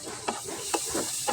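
Masala with a splash of water frying in a pan for rohu fish curry, stirred in quick rhythmic strokes, each scrape rising over a steady soft sizzle, close and without speech.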